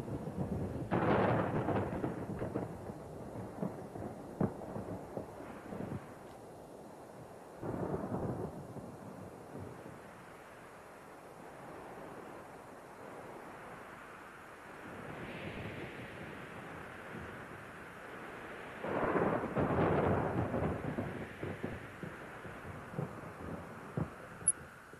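Thunderstorm thunder rolling in heavy rumbling bursts, a loud crack near the start, another around eight seconds and a long roll near twenty, separated by quieter windy background with no talk.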